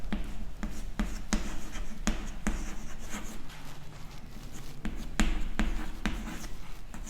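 Pen writing on paper while cross-multiplication equations are solved in a maths lesson, with close scratchy strokes and regular taps as characters are formed, continuing steadily throughout with no talking.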